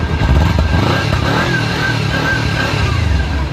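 A 2016 Kawasaki Ninja 250 with its stock exhaust idles close by, a smooth, steady engine hum with even low rumble and no revving throughout.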